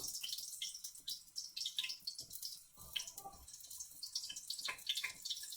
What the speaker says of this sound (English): Wow, it's sizzling.